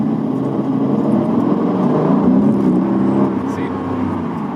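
An Aston Martin DB11 V8 sports car accelerating from inside the cabin, its engine note rising and swelling to a peak before easing off slightly, with a person talking over it.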